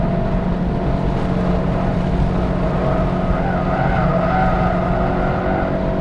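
An 8th-generation Honda Civic Si brakes hard on a race track, its ABS working against the tires: a loud, continuous roar of engine and road noise with a rising squeal, heard from inside the car.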